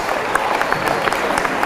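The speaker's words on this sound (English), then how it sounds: "Let's give our Roseville High School Athletic Hall of Fame class of 2018 another big round of applause" Audience applause at a high school athletic hall of fame induction ceremony in a hall: brief, steady dense clapping from a crowd, moderately loud and continuous.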